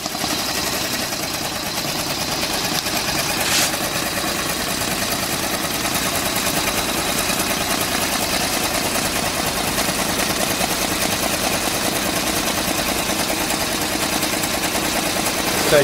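An embroidery machine stitching the outer rim of a logo runs in a steady, continuous mechanical whir with a fine rapid rhythmic texture, close and even for the whole stretch, with no talk over it.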